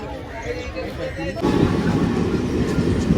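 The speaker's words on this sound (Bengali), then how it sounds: "ফাইনালি আমাদের ট্রেন চলে আসলো" A train rumbles into a station, its heavy rolling noise swelling suddenly and holding steady, with a voice faintly audible beneath.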